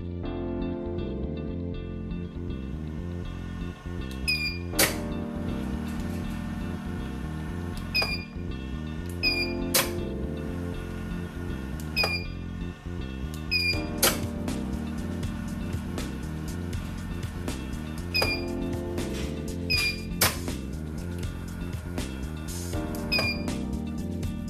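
A KJ500DC gate operator running under test, giving a steady low motor hum with a mechanical drone throughout, broken by several sharp clicks and ticks at irregular intervals.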